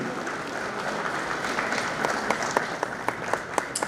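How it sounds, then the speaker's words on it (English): Guests at a women's soccer league dinner applaud the Zimbabwe Olympic Committee CEO as she walks through, a sustained crowd clapping with a few distinct sharp claps standing out toward the end. "Let's give her a round of applause as she comes through."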